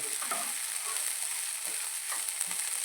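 A dry roast of dried prawns with coconut pieces sizzles steadily in a pan, a dense, continuous crackle with a few soft stirring scrapes and no talking.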